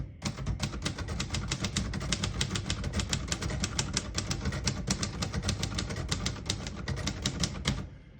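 Rapid, steady keystrokes clatter from a 1957 Royal Quiet De Luxe portable typewriter, a dense run of crisp mechanical strikes close up for about eight seconds with no voices.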